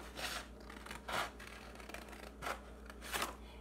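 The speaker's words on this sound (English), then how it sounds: "you may have to kind of keep going in and out with your scissors" Scissors cutting paper around wavy lines of a dolphin craft, four or five short swishing snips spaced about a second apart, close and fairly quiet, with no talk.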